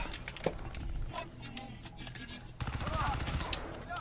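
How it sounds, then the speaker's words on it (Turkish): Bursts of rapid gunfire crackle in quick succession, with heavier volleys near the end, sounding like weapons firing at mid distance in the video game Crysis. "Silah sesi var lan. Ateş ediyorlar lan."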